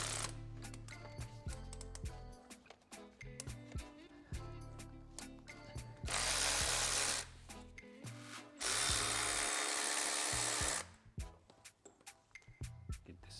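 Rapid, repeated clicking of a ratchet on the E14 pulley bolt of a 2008 Mercedes-Benz E350 4Matic engine, in short close bursts, broken by two longer stretches of loud whirring tool noise.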